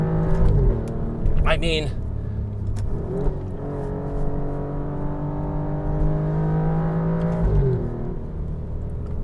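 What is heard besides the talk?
Alfa Romeo Giulia QV driving in race mode on bumpy road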